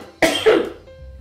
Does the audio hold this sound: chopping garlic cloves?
no